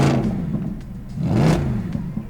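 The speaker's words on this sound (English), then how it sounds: "Then when I step on the gas" A modified Mercedes-Benz SLS with a Capristo exhaust revs twice in quick succession, each throttle blip rising and falling with a deep rumble, close by and without talk.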